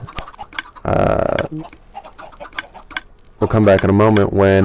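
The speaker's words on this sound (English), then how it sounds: "I would say about 300 chickens, which is easy to determine with the F3 key" Chickens in a video game, a mass of roughly 300 birds on an industrial chicken farm, cluck and squawk loudly and continuously, with rooster-like calls rising near the end and no talking over it.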